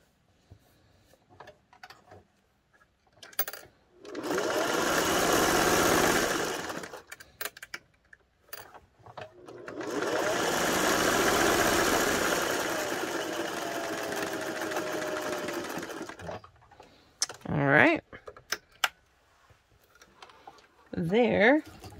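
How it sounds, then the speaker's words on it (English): A sewing machine stitching a pillow cover, running in two long bursts of steady, rapid whirring, close and fairly loud, with quiet handling noises and brief clicks before, between and after the runs. "So I'm just going to sew it to right here."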